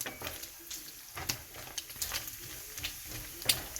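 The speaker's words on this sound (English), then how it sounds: "Cook with the pancetta, eh?" Pancetta fries in a pan for Italian macaroni and cheese, giving a soft, steady sizzle with scattered close pops and crackles and no talking.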